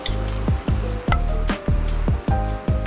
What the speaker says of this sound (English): I'm just going to chuck in my onions only.